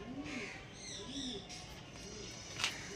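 Madras pigeons cooing in low, repeated throaty calls, with a brief bright chirp near the end and soft background noise, heard close by.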